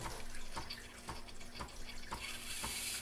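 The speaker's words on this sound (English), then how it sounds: "you flip that switch and you wait until it starts steaming out" A Breville Barista Express steam wand purging water gives a faint, steady hissing spray and splatter with soft rhythmic pulses, like running water into a drip tray.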